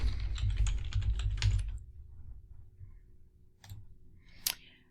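A fast burst of keystrokes on a computer keyboard for under two seconds, close and crisp, followed by a few isolated clicks after a pause, with no talking.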